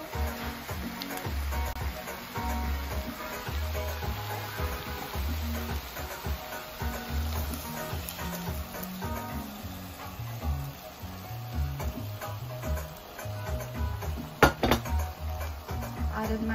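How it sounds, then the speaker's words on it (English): Dal tipped into a pot of ham bone soup with vegetables, bringing a steady clatter of utensils against the pot and soft rustling, with a louder knock near the end and a voice talking now and then. "And I'm gonna add my dal in there."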